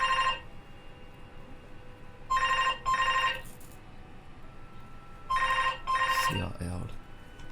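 A phone sounds its ringtone in crisp double rings: one lone burst, then two more pairs a few seconds apart. The ringing stands out clearly against a faint background hum, and a brief low sound follows the last pair.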